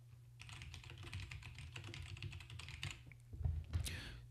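Fingers tap out a quick, uneven run of keystrokes on a computer keyboard, close and fairly quiet, with a few heavier presses near the end.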